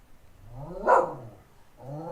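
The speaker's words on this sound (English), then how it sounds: "She hears another dog outside barking." A dog indoors barks at another dog outside: one loud, sharp bark at the middle, with softer whining growls before and after, and no talk.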